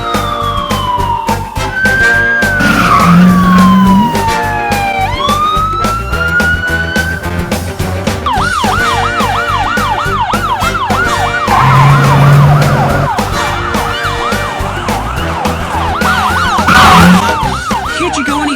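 An ambulance siren wails steadily in a rail-yard emergency scene, loud and close, switching between long sweeping tones and faster yelping cycles amid traffic.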